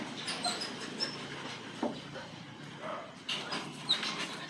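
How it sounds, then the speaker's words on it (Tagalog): Rottweiler dogs give soft, scattered whimpers and a few short barks outdoors, quiet and intermittent with small yelps rising above a low background hum. "Ayan, ang mga alaga nilang mga aso."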